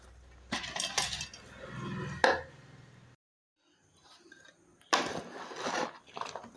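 Roasted rice flour stirred in a pan while making jaggery sweets, giving a scraping, clinking run of utensil-on-pan strokes, then a pause before another busy burst of stirring.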